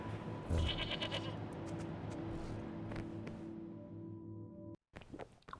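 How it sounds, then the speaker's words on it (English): Goats bleat repeatedly in a video game over a steady electronic hum and game-like background tones, then a sudden cut and a short burst of clicks. "Why am I hearing goats?"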